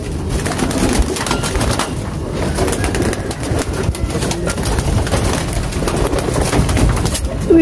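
Pigeons coo steadily and close by, with bursts of fluttering wings and some rustling, in a dense, busy run of bird sounds.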